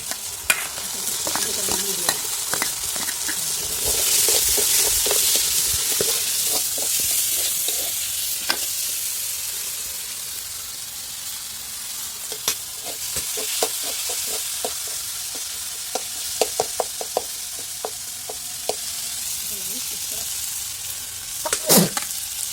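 Chicken liver frying with spices in a pan, a continuous sizzle with many sharp clicks and scrapes of a stirring utensil against the pan, brief faint voice in the background.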